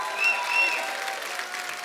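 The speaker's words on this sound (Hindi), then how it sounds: "एक बार जोरदार तालियां हमारे स्टार्स के लिए।" Brief, steady applause from a studio audience on a comedy talk show, a dense wash of many hands clapping at moderate distance, continuous and even, with no voices on top.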